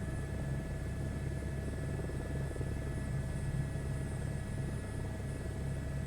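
An airplane coming in to land in a flight simulator game, heard as a steady, droning engine rumble with a constant hum and no change across the whole stretch.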